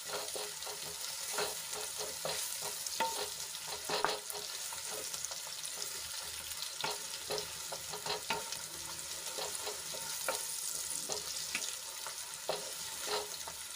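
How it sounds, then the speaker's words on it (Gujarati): Sliced onions with garlic and chilli paste sizzle softly in a pan, cooking until light pink, with repeated spatula stirs and scrapes over a faint, even frying hiss; no voices. "ડુંગળીને આછા ગુલાબી રંગની થાય ત્યાં સુધી આપણે એને સાંતળી લેવાની છે"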